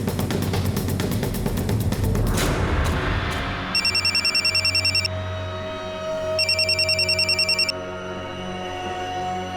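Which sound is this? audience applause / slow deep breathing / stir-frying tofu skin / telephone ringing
telephone ringing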